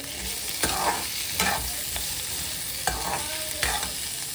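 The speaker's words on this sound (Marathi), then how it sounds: "मी थोडंसं गोल्डन ब्राऊन हिरकेला भाजून घेते" Chopped onions sauté in hot oil until golden brown for a Khandeshi sev bhaji, with a steady sizzle and a few spoon scrapes against the pan.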